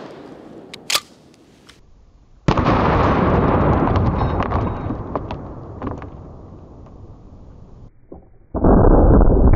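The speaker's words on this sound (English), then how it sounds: "So apparently I just shoot high with the Mossberg Shockwave." A Mossberg Shockwave shotgun loaded with nine-pellet double-aught buckshot fires on a range. One loud, sharp blast is followed by a long rumbling decay. A second heavy report comes near the end, after a quieter stretch with faint clicks.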